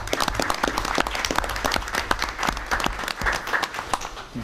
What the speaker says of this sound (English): I hope you'll join me in a round of applause for your great service, Ron.